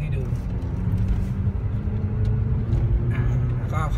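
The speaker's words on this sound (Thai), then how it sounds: "นี่ให้ดูอัตราเร่งนะครับผมจะเร่งให้ดู" An MG3 car accelerates on a test track, giving a steady, low engine drone with road rumble throughout; a voice briefly speaks near the end.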